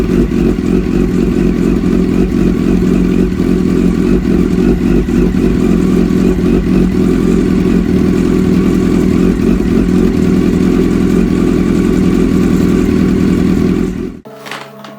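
A Kawasaki ZX-10R sport motorcycle engine idles steadily with a constant throaty rumble, close by, then cuts off abruptly near the end.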